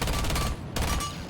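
LS Scorpion submachine gun in Rainbow Six Siege firing sustained automatic bursts, loud and dense, with a brief dip in the middle before the rapid fire resumes.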